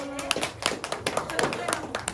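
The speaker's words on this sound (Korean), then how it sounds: "박수." Churchgoers at a Sunday worship service clapping, a loose patter of claps from a small group, fairly close and moderately loud, mixed with voices talking over it.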